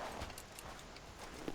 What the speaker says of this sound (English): move faster on horseback.